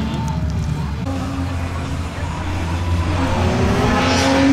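A car driving at a drift track during a spring break event, its engine droning and rising in pitch as it accelerates, with faint tire noise and some background voices.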